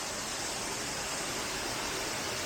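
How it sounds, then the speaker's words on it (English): A waterfall near a coffee village in Mae Kampong, Chiang Mai, a constant broad rushing hiss of falling water, steady and unbroken. "It's got its own waterfall."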